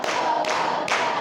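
Children clapping their hands together in a counted rhythm, a few broad claps landing close and fairly loud with no voices over them.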